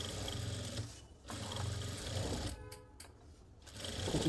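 A sewing machine stitching a lined suit, a faint rapid whirring run in short bursts with brief pauses between them.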